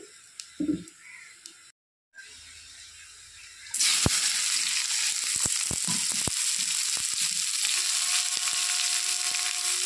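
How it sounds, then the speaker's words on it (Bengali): Bitter gourd pieces dropped into hot mustard oil in a wok, starting with a few clatters and a brief silence, then a loud steady sizzle that continues with small pops and scraping sounds. "আর করলাগুলোকে আমি এখন ভেজে নেব।"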